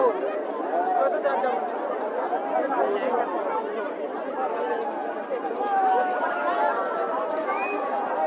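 Crowd chatter fills an autumn fair, a steady babble of many voices close around with nearby individual voices rising above it, continuous and moderately loud.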